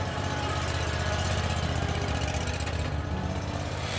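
A zero-turn lawn mower engine runs steadily while the mower turns in place, a close, continuous mid-pitched drone with a rough vibrating texture and no talk over it.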